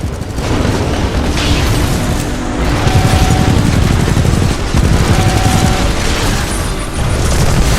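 Dense, continuous gunfire and heavy booming explosions from Titanfall 2 combat, loud and close, with blasts and rapid shots overlapping throughout and no talking.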